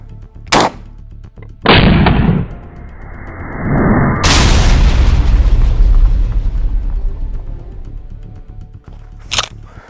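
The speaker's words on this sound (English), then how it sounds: "We're gonna take some buckshot straight to the receiver and we're gonna see what happens." Shotgun blasts of buckshot fired at an M16 rifle receiver outdoors: a sharp crack, then a loud booming shot that rolls into a long echoing rumble, with another short crack near the end.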